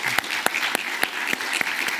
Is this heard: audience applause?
yes